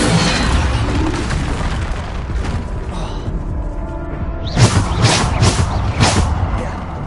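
Bombarda spell blasts in the Hogwarts Legacy video game, a run of booming bursts during a magical fight, with several sharp, loud pops clustered near the end over a steady rumbling background.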